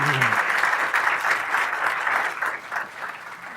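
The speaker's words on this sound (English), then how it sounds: "and a round of applause" A crowd at a transplant community's first event gives council members a round of applause: dense, sustained clapping from many people that stays fairly loud throughout and eases off a little toward the end.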